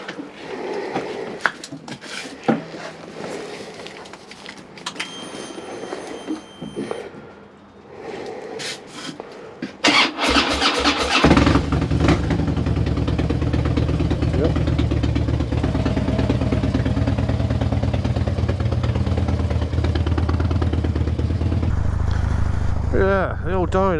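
A Harley-Davidson Dyna Glide Street Bob motorcycle, left sitting unused for a while, cranks and fires up, then settles into a loud, steady, throbbing idle that continues to the end. Talk and rustling are heard before it starts.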